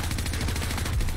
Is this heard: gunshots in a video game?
yes